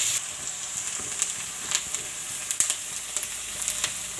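Sliced onions frying in hot oil for a fenugreek leaf and potato curry, a close, steady bright sizzle peppered with irregular small pops and crackles throughout.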